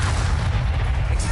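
A Descendo spell is cast in Hogwarts Legacy gameplay on PS5, producing a loud, deep, rumbling boom that holds heavy and sustained through the brief moment.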